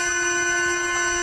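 A train horn blasted at a street protest, a loud sustained blaring chord with several steady tones held unbroken throughout, close and overpowering.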